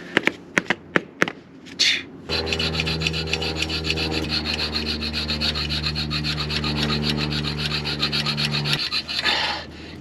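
A junior hacksaw cuts through an old bolt on a tiny 875cc Fiat engine, a few sharp taps and then a steady, fast back-and-forth rasp of metal that continues for several seconds, close and fairly loud with no talk.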